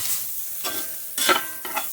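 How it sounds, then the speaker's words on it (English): Lion's mane mushroom pieces sizzle and crackle in a hot pan, with a few louder bursts of frying as pieces are stirred or turned, no voices. "These are frying up wonderfully."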